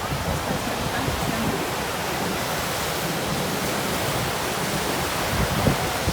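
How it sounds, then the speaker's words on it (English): Evening ocean waves at Taghazout surf beach in Morocco give a continuous broad roar of surf, dense and steady with slight swells in loudness, no talk. "So here's some of the evening waves."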